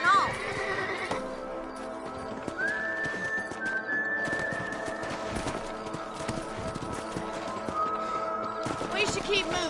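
Horses in the Red Dead Redemption video game, with neighing and clip-clop hooves over continuous game ambience, plus a sustained whistle-like tone partway through.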